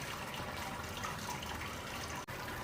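Sparge water pouring steadily into the grain bed of a Grainfather all-in-one homebrew system while brewing a Punk IPA clone, a continuous hissing splash heard close and alone.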